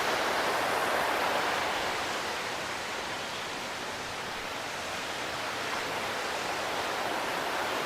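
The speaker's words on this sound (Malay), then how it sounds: "Dekat belakang ni air dia agak laju jugalah." Fast-flowing river water runs beside a campsite in Sahom Valley, Kampar, Perak. It is a steady, dense rushing wash that stays even throughout, with no voices or other sounds.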